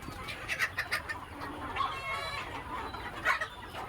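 Young hens on a poultry farm, two to three months old and kept for eggs, cluck repeatedly in short, close bursts over a steady background of other birds.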